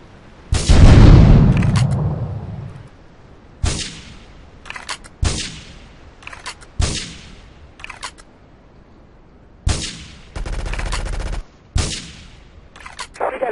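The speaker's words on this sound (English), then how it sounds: "Investigate reports of gunfire and explosions" Repeated bursts of gunfire and explosions in GTA III at a Portland Harbor facility: one loud opening boom, then a string of sharp separated shots and short rattling volleys, close and punchy, with quiet gaps between them.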